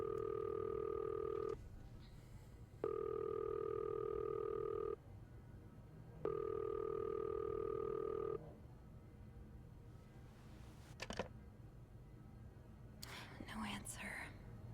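A phone in the video game This Bed We Made rings unanswered, sounding three long, steady electronic rings separated by pauses, then it falls silent amid quiet background noise and a few small clicks.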